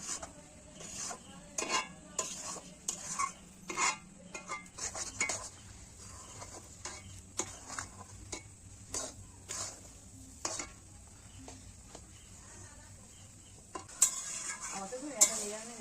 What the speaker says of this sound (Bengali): কচু শাক রান্না করছি